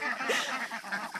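Ducks quack and honk in a loose, busy cluster close by on a farm, with chickens nearby, the calls overlapping in quick succession for just over a second with no voices.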